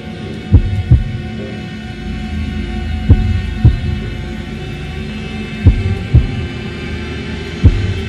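Paired heartbeat thumps sound in the video game Man of Medan, three slow double beats spaced a few seconds apart, deep and prominent over a low droning hum.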